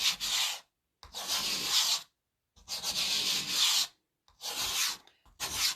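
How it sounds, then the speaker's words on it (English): A felt board eraser scrubs chalk paste off a board in four or five loud, rasping bursts of about a second each, separated by short silent pauses, with no talking. "then I'm going to use our board eraser and just get the board really nice and clean"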